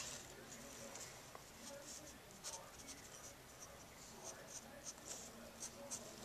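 A darker 2B pencil hatches across paper in steady, close scratchy strokes, each pass a soft rasp repeating evenly and near, with no talk over it.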